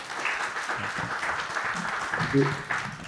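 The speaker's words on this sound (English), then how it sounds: "please again give our audience a round of applause" Audience applause with steady clapping throughout, while a voice speaks over it.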